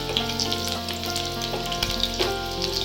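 Garlic frying in a pan, a loud continuous sizzle close by with a few sharp spatula knocks and stirs, no one speaking.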